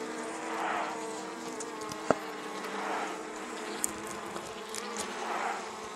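Japanese honeybees swarm around their hive while combs are cut away for honey, making a dense, continuous buzzing drone that swells and fades as individual bees pass close, with a few faint clicks and taps in the background.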